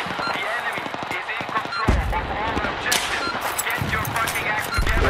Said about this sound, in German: Okay, ich werde beschossen.